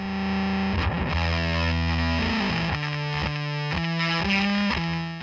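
Electric guitar runs through a Soundslice FX Double Beater Fuzz pedal on its flat setting, giving thick, saturated fuzz chords and notes that ring out loud and sustained, changing pitch in a short riff with no talk.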